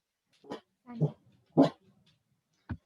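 A dog barks nearby in four short, separate bursts spaced across a few seconds, with quiet gaps between them.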